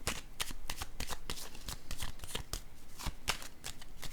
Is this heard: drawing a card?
yes